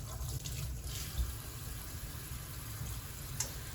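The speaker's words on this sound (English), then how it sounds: "We will activate the hot water," Hot water runs steadily from a FROPO black kitchen faucet, a continuous close hiss of flowing water with a low rumble underneath, no voices.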